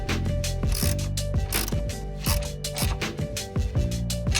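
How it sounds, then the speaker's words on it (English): A ratchet wrench clicks rapidly in repeated strokes while tightening bolts on the underbody of a Subaru BRZ. The ratcheting is close and steady with no talk. "I'll just tighten these a little past hand tight before it's time to use the torque wrench."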